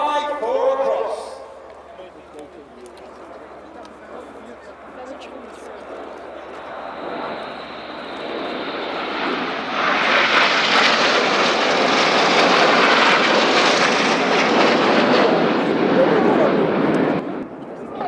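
Red Arrows jets performing at an air display at RIAT 2025, a distant engine rumble swelling to a loud roaring pass that fades at the end, under a commentator's voice heard at first.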